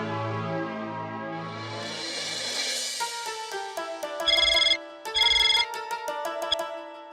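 A telephone rings while a call is placed: a dial-tone-like hum and rising noise give way to a looping electronic ringtone melody with two bursts of repeated ring pulses.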